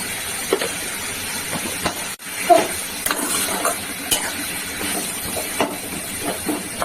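Potato and leafy greens frying in a pan and being stirred, with steady close-up sizzling broken by scraping stir strokes and a brief sharp clatter near the start; no talking.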